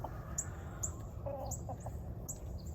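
Soft, low clucking from a rooster nearby, with a few short throaty notes against a quiet rustling background.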